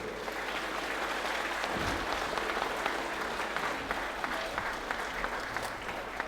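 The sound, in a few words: audience applause for guests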